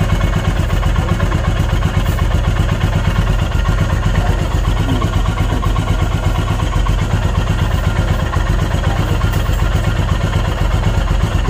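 A Royal Enfield Himalayan motorcycle engine idles steadily and close by, a continuous low thumping rumble with mechanical clatter that holds even throughout, with no talking over it.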